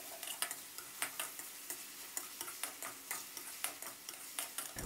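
Pork fries with ready-made kaphrao basil stir-fry sauce, stirred briskly in a pan. A soft constant sizzle runs under a quick ticking rhythm of spatula strokes against the pan.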